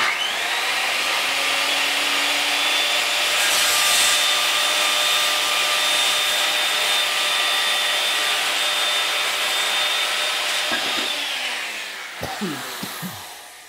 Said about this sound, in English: Get the blade up to full speed before you start beginning to push it through.